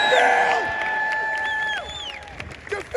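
Outdoor rally crowd outside New South Wales State Parliament cheering and applauding, with a few loud whoops and shouting voices early on, then the noise thinning into scattered claps and calls.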